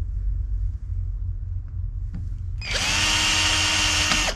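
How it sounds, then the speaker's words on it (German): An electric drill whirs loudly into kindling wood while pre-drilling button holes, after a few quiet moments, a sustained high-pitched grinding bite that runs to the end. "Ich werde einfach jetzt vorher alles einfach mal bohren"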